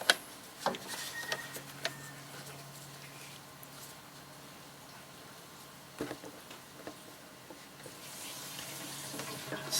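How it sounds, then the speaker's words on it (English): Automatic transmission fluid being pumped out through a small hose from an overfilled transmission, a steady wet, trickling flow with a few clicks and knocks from the hand pump, moderately quiet and heard without talk. "Now we can pump the fluid."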